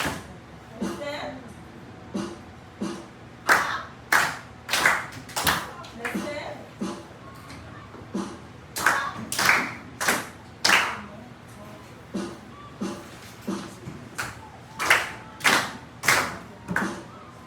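Hand clapping in a classroom listening exercise, sharp distinct claps in short rhythmic groups that repeat with brief pauses between them, while a voice speaks faintly underneath.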